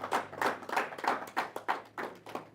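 A church congregation claps steadily during worship, about eight even handclaps at a brisk, regular rhythm, clear and fairly close with no talking.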